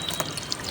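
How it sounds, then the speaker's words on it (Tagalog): Running water splashes steadily over a plucked native chicken being washed, a continuous bright hiss with small irregular splashes, close by and without talk. "Kanya na pong hinuhugasan ng tubig."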